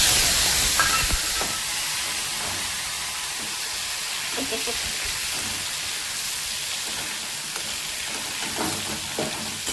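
Tomatoes dropped into a hot pan with spices and asafoetida, a steady loud sizzle and hiss that runs throughout, with a few faint clinks and a voice speaking softly over it.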